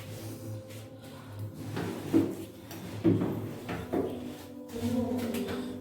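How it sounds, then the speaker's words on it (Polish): A heavy steel door in an abandoned giant nuclear shelter swings on its hinges, giving several dull creaks and thuds spread through the clip over a low hum. "I mimo, że te drzwi są tak ciężkie, to zawiasy są tak skonstruowane, że można je bez problemu zamknąć."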